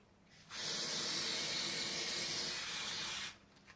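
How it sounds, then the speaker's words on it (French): A can of spray glue gives one continuous, close aerosol hiss that lasts about three seconds, with nothing else heard. "Ensuite, pour ces deux-là, hop, hop, bombe de colle."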